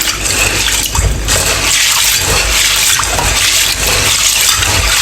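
Running water splashes and pours steadily over black beans being rinsed in a bowl, a continuous close gushing wash with brief dips, no voices.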